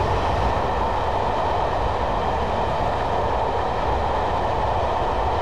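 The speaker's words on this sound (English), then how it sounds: "I'm just going to idle the power at this point and allow the train to coast down towards 50" Class 111 diesel multiple unit coasting with power idled in Train Simulator 2015 on the Dumfries to Kirkcudbright line, giving a steady, continuous rumble of wheels and engine with no breaks, alone and without talk.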